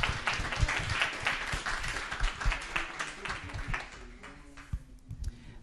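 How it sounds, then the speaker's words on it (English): An audience gives a panel a round of applause after an evening discussion event, a moderate patter of hand claps that tapers off to a few scattered claps. "One more round of applause for them."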